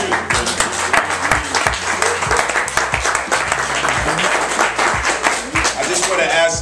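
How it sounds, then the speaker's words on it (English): An audience at a community meeting claps in a dense, sustained burst of applause, loud and close, with scattered voices mixed in and the clapping thinning out at the end. "I just want to ask if we could hold maybe the claps and no shouting down"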